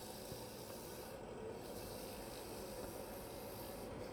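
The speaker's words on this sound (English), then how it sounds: "We'll hit that with a little sandpaper real quick right up here at the front." Sandpaper rubs against a wooden spin top box turning on a lathe, giving a steady, close, even hiss of sanding that holds constant throughout with no talking.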